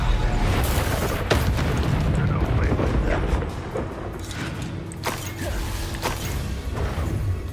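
A Confringo fire spell explodes in Hogwarts Legacy, with booming blasts and crashes amid spell-combat noise, loud and dense through the scene.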